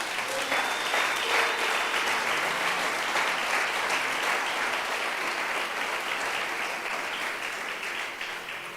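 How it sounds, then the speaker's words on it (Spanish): A church congregation breaks into loud, sustained applause for the Lord during a pastor's sermon, dense clapping filling the room without a break and fading only slightly toward the end. "¿Puede usted darle un aplauso al Señor?"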